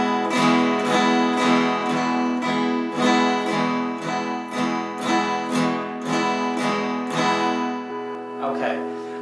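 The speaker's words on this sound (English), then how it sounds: "the basic metronome strum sounds like this" Acoustic guitar strummed in a steady down-up metronome pattern, chords ringing evenly with regular rhythmic attacks for about nine seconds, played close and loud with no talking.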